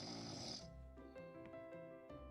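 A carved-face cauldron snoring in the video game Phenexa gives a soft, breathy snore at first, then slow, low, rumbling breaths over faint, steady background music.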